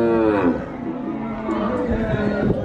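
A cow mooing on a farm, a long drawn-out low call near the microphone that fades out, followed by people chattering in the background.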